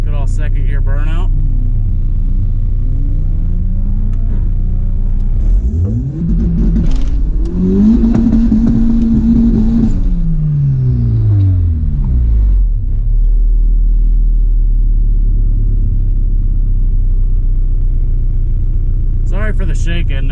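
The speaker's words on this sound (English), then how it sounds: "Good old second gear burnout." A cheap Honda car does a second-gear burnout while racing, its engine revving up and down in loud sustained sweeps with a deep rumble throughout, close and dominant.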